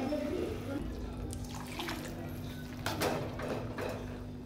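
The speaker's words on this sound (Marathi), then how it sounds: "आता मी भाज्या ज्या शिजवल्या होत्या त्याच्यातलं पाणी उरलेलं ते टाकून देते" Leftover water from cooked vegetables for pav bhaji is poured out, a running liquid splash heard near, with someone talking over it.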